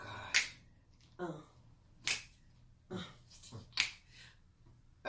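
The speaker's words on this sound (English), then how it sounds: "I'm kind of clapping on beat or snapping on beat." Finger snaps keep a beat, with six crisp, loud snaps spaced roughly evenly, close by in a quiet room and mixed with brief spoken words between them.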